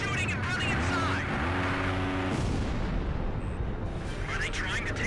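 Rapid gunfire and rumbling explosions from the Ace Combat 5 video game fill the scene continuously, loud and dense, with a voice speaking over the battle.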